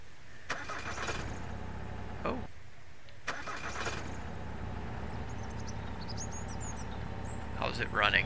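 A truck with no engine and no tires being started in the video game Mist Survival: two cranking attempts, then an engine catching and running at a steady idle, with birds chirping faintly near the end.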